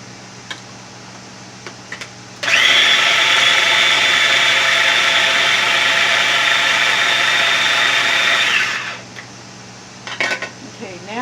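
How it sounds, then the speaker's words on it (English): Small food processor grinding meatloaf ingredients, a loud steady whirring motor running about six seconds, close up, with brief clatter before and after. "I'm going to put them in my little food processor, right here, and I'm going to grind them up"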